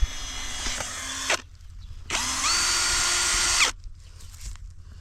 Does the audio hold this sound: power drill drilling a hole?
yes